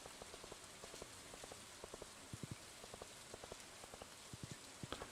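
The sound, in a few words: rain falling in Stardew Valley video game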